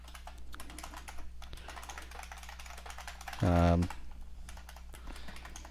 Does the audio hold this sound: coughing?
no